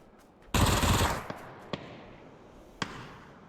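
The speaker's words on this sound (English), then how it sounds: "Shots coming in" Gunfire in a PUBG esports match: a loud sustained burst of automatic fire for about half a second, then several isolated sharp single shots spaced apart, with game ambience between them.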